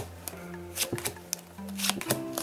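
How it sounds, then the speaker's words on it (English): Match Attax 2014/2015 football trading cards from a Topps starter pack are flicked through by hand, giving quick repeated papery snaps and riffles, close and fairly quiet, with a faint low hum beneath and no talking. "let's just skim through our team cards now"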